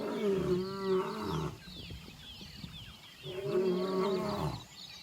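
A lion roars in deep, rolling bursts, two long powerful roars separated by a pause filled with grunting and breathy rumbles, loud and close against a busy outdoor background.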